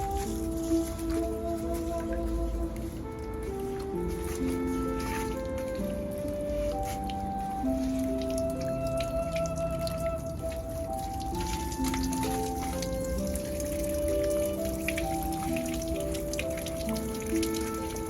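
Water drips and trickles onto the soil of repotted yamadori juniper bonsai, irregular soft patters over a steady wet background, while faint musical tones sound underneath.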